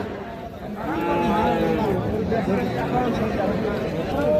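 A Sahiwal heifer calf at a cattle market gives a long, drawn-out moo close by, with crowd chatter and people talking around it.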